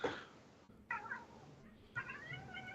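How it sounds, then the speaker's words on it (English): A cat meows repeatedly at close range, giving several drawn-out, whining cries separated by brief pauses, heard clearly without talk over them. "What is that cat doing?"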